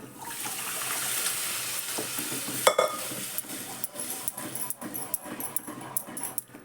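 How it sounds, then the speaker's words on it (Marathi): Hot oil crackles and sizzles as turmeric and asafoetida tempering hits the pan for spinach curry, with a sudden loud spatter followed by quieter popping and sporadic clinks. "फोडणी घालते भाजीला"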